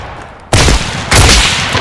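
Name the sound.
shotgun firing in a video game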